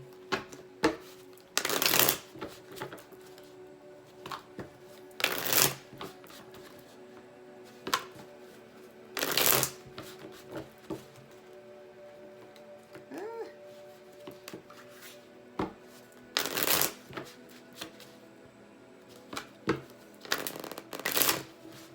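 Tarot cards being shuffled in several separate bursts of riffling and flapping, close and crisp, with quiet stretches between them and a faint low hum underneath.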